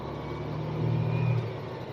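A truck engine hums at low pitch, rising briefly in the middle as it revs through a manual gear change, then settling back to a steady drone.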